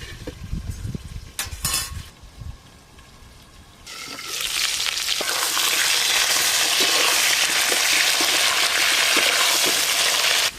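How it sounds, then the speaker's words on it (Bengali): Cut, washed potatoes drop into hot oil for katla fish kalia and fry with a steady, loud sizzle that continues unbroken after a few clattering handling sounds at the start. "কেটে ধুয়ে রাখা আলু চাপা দিয়ে আলুগুলো ভালো করে ভেজে নেব"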